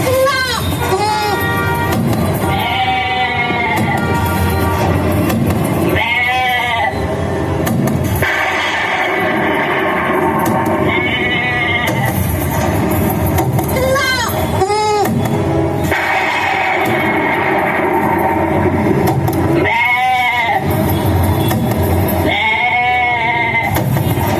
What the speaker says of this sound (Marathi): श्री खंडेराय कळपातील एक एक मेंढी खडकावर आपटून मारू लागली